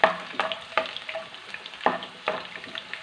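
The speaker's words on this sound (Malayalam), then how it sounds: "നമ്മൾ കുറച്ച് വെളുത്തുള്ളി വറുത്ത് കോരുവാണേ" Garlic fries in hot oil, a close sizzle broken by several sharp crackles and stirring knocks at irregular intervals, with no voices.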